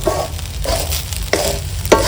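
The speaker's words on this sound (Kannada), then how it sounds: "ಈಗ ಇಷ್ಟು ಹಾಕಿ ಒಂದ್ಸಲ ಚೆನ್ನಾಗಿ ಮಿಕ್ಸ್ ಮಾಡ್ಕೊಳ್ಳೋಣ" Egg rice with garam masala is stirred in a pan, the spoon scraping in repeated strokes over a steady sizzle, loud and close, with no voices.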